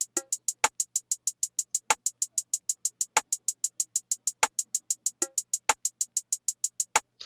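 A quick, steady run of crisp hi-hat ticks, punctuated at regular intervals by sharp rimshot cracks, forming a looping beat with no voices.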